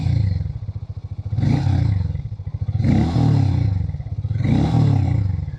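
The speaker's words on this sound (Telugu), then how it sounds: "సో ఇది అయితే దీని ఎగ్జాస్ట్ నోట్ ఐడ్లింగ్లో. ఇప్పుడు రవ్విస్తాను." A Harley-Davidson X440 T exhaust rises and falls through three strong revs from idle, each a loud, close blip that swells and settles back to a throbbing idle.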